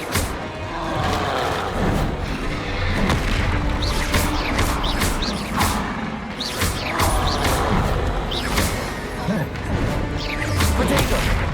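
Confringo explosion spells in Hogwarts Legacy, a dense, loud run of crashing blasts and thumps over continuous combat noise, with no talking.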